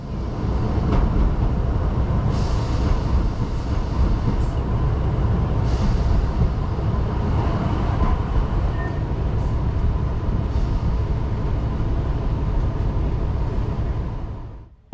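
A TfW diesel railcar crossing a stone viaduct on the Heart of Wales Line, a loud, steady rumble and rattle of wheels and engine heard from on board, unbroken for the whole stretch.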